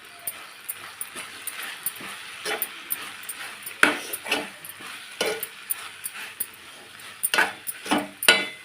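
A spoon scrapes and stirs spices and chili powder in a pan, with irregular clacks and scrapes against the metal over a soft, steady sizzle. The stirring is close and uneven, with no talking.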